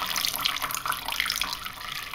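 Water runs from a tap in a rented home where dishes are washed, a steady splashing stream at moderate level, nearby and alone with no voices.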